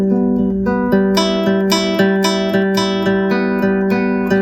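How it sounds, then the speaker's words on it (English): Guitar notes picked in a steady repeating pattern, a pick and the middle finger alternating on the strings, ringing clearly and evenly with no voice over them. "the thumb and index holding the pick"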